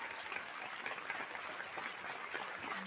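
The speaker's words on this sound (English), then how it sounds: "Give yourself a round of applause." Steady, dense applause from a small gathering at a spiritual online livestream, even and continuous without breaks, moderately loud throughout.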